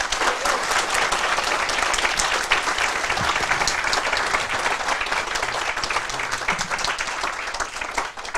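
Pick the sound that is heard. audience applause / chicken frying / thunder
audience applause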